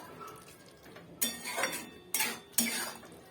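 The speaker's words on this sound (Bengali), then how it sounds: "এখন আমি সমানেই এটাকে নাড়তে থাকবো, মাঝে মাঝেই নেড়ে দেবো" Greens and prawns cook with sesame paste in a pan, stirred with a utensil that scrapes and clinks against the metal in three or four sharp strokes over a faint background sizzle.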